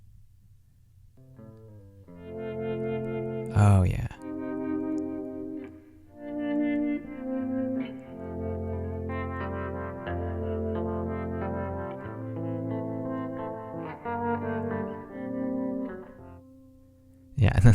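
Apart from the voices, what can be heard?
soloed saxophone track from song mix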